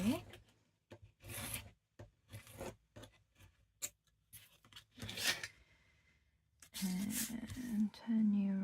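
Paper being cut for a craft journal, with a series of short rasping scissor or blade strokes separated by pauses, followed by longer, louder cutting passes near the end; close and clear.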